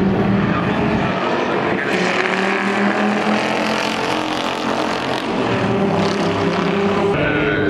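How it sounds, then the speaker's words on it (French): Vintage Porsche 356 engine drones as the car passes at a Le Mans classic racing event, a loud, continuous, close mechanical roar whose pitch shifts as it goes by, with crowd and other engine noise around it. "Très belle Porsche 356."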